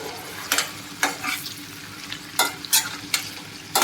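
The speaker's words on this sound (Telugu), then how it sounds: "బాగా ఫ్రై చేద్దాం" Raw banana masala curry fries in a pan, a steady sizzle broken by sharp scraping strokes of a spatula that recur every second or so, close and fairly loud.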